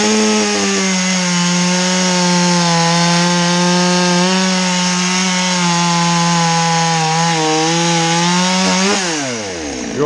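A Stihl 200T chainsaw cutting wood runs at a loud, steady high-pitched whine for about nine seconds, then the engine pitch drops sharply as the cut ends.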